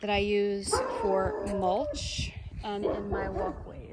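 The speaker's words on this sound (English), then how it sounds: "Pardon the barking dog." A dog barks in the background of a garden while a person keeps talking over it.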